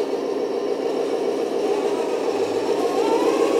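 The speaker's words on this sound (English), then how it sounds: "Here's the engine rolling." A 1/14 scale RC Benz 8x8 truck with a metal chassis and 3-speed gearbox rolls along while its engine sound system plays a steady, droning simulated engine hum, rising slightly in pitch toward the end.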